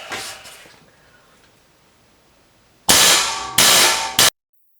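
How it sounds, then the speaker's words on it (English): An impact wrench works on a seized sway bar end link on a Porsche 987, giving three loud, close, rattling hammering bursts after a quiet pause and a fading first burst. "So I've been hitting that with the impact"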